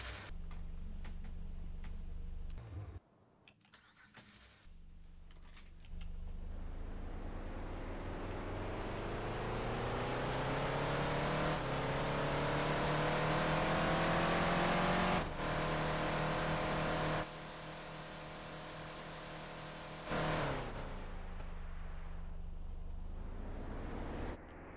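Dacia Duster 2019 engine as modelled in Farming Simulator 19, idling then revving up steadily with rising pitch, holding high revs and dropping back, loud and close throughout with no talk.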